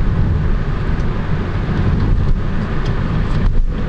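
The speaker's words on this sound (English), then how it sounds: "Let's give it some gas here." A 2000 BMW Z3 Roadster's engine accelerates on the road, a steady, loud drone with wind noise running throughout the whole stretch.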